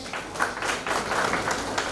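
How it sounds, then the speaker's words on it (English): Audience applause for a school performer at a CBSE school award ceremony, a steady wash of many hands clapping close up for two seconds with no voices over it. "Let's give her a huge round of applause."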